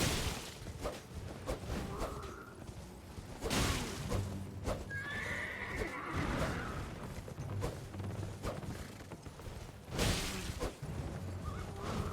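A horse whinnies in a video game, with hoofbeats clopping and mechanical clicks around it, the neighs standing out loud and near.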